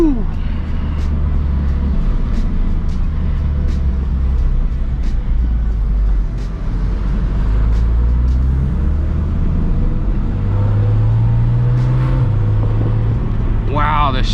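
A 2023 Porsche Cayman GT4 RS engine roars loud and close from inside the cabin, a deep continuous rumble that rises in pitch as the car accelerates, with a brief voice near the end.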